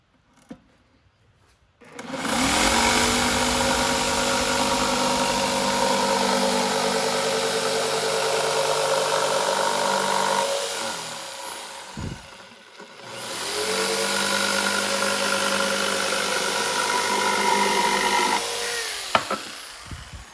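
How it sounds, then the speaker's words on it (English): A powerful jigsaw cuts wood for a battery box build, a loud steady motor whine running about eight seconds, dipping briefly, then a second long cut before winding down with a few clunks. "Pretty beast of a jigsaw, huh? That thing cuts nice."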